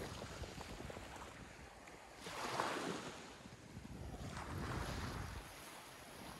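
Wind rushes steadily across an open shoreline near the Qatar–Saudi Arabia border, with the surf's broad hiss swelling and fading twice as gusts build and ease.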